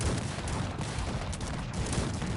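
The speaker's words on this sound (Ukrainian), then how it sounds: "Дивіться, які залпи просто по пікінерам." Dense, continuous musket volleys from an 18th-century strategy game crackle without a break as massed fire hits pikemen, loud and close with no pauses between shots.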